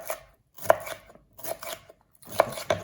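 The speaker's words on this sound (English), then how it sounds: "Chopping these away." A knife chops vegetables for a spicy bean soup on a cutting board in irregular bursts of crisp thuds and scrapes, close and clear, with short quiet gaps between groups of cuts and no talking.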